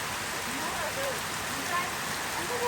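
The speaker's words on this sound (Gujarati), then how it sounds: "મસ્ત વરસાદ આવે ને યાર." Steady rain falls in a dense, even hiss throughout, with faint voices murmuring underneath.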